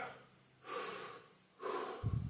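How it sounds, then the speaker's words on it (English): Two slow, deliberate breaths drawn in through the nose, each a broad airy rush about a second long, separated by a pause, with a soft low thump at the end. "Another breath."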